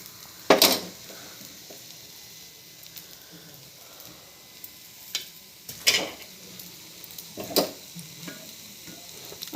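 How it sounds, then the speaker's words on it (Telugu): Paniyaram (ponganalu) frying in a pan: a steady, soft sizzle runs throughout, broken by a few sharp clinks of a utensil against the metal. "ఇంకా కొంచెం వేగాలి బాగా."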